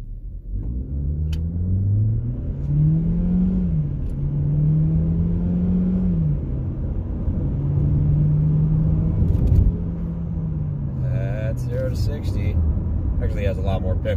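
A 2020 Chevrolet Equinox with a 1.5L turbo engine and modified stock airbox, heard from inside the car accelerating hard from a standstill, its engine note rising through gears with a steady droning hum and a brief pause between shifts.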